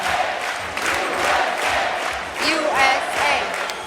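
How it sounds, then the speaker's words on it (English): A crowd at the 2019 World Pro Latin dance championship final gives a standing ovation, with loud sustained cheering, whoops and chanting voices over clapping in a large hall. "And we have a standing ovation. People are standing up. They're off their seats. They're chanting. They're clapping"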